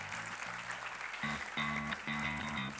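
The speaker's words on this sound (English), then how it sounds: "Please applause." An audience applauding at an innovation demo day as an ambassador is invited on stage, a continuous patter of clapping under loud walk-on music.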